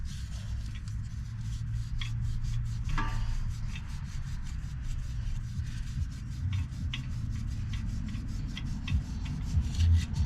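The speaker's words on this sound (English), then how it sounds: "Take a piece of sandpaper, scuff it all up" Sandpaper is rubbed back and forth over a part to scuff it up during a home repair, a steady close grating rasp running continuously without pauses.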